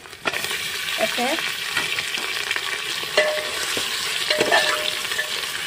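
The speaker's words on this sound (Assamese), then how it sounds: "মাংসখিনি ভালদৰে এনেদৰে অলপ ভাজি লৈ আছোঁ তেলত" Mutton pieces fry in hot oil with onion, garlic and ginger, giving a close, steady sizzle with scattered pops and the scrape of stirring, and nobody talks.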